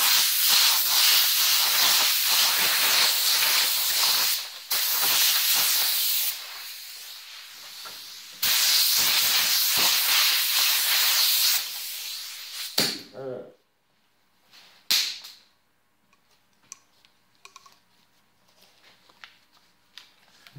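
A spray can lays a charcoal base coat onto a devil horns plaque: long steady hissing bursts of spray separated by short pauses, close and loud, followed by quieter handling noises and brief clicks once spraying stops.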